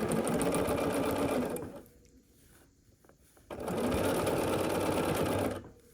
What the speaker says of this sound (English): we're going to sew along this long seam